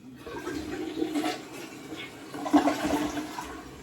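A toilet flushes after a bathroom flooring install and water-line hookup, a close, steady rushing swirl with a stronger surge of draining water near the end.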